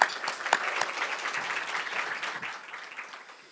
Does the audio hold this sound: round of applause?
yes